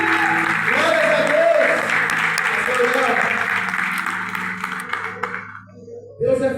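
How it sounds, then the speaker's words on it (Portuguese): A congregation at a Portuguese-language evangelical service applauds over sustained worship music and a voice, the clapping loud at first, then tapering off before the music and voices swell back in. "aplauda o nome do Senhor"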